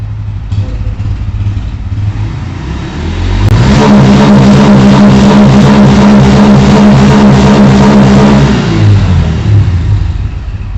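A Bajaj Pulsar N160 motorcycle idles roughly, then its engine revs hard and holds a loud, steady, buzzing high note for several seconds before dropping back toward idle. It is heard close up with no talking.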